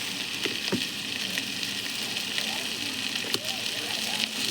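Vegetables frying with green chillies in a pan for a curry, with a steady, close hiss of sizzling oil and a few brief stirring knocks and scrapes, and no speech over it.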